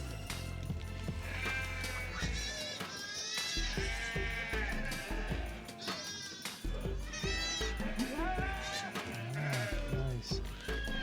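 Goats on a farm bleat repeatedly, several overlapping loud calls near and far, with someone talking briefly among them.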